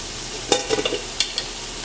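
Chicken stirred in a cooking pan, a few quick scraping clinks of the spoon over a soft, low sizzle, close and brief, with no talking.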